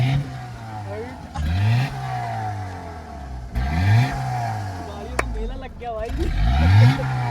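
A Honda Accord's engine revs repeatedly in rising and falling bursts, loud and close, with people talking excitedly over it.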